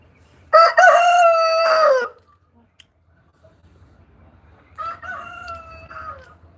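Roosters crow loudly nearby: one long full crow, a pause with a faint click, then a second, softer crow.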